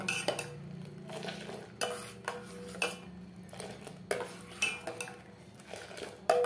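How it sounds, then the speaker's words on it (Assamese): A utensil scrapes and clinks repeatedly against a pot while milk is stirred for sweet curd, a steady series of close metallic strokes with no talk. "এনেকুৱা পাতিলত মাজে মাজে মই এনেকৈ লাৰি আছো নহলে ইয়াৰ চামনি পৰি যাব"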